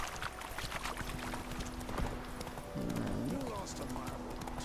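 Geralt's horse Roach trotting with a steady clip-clop of hooves in The Witcher 3 video game, with a brief whinny partway through and a voice talking over the hoofbeats.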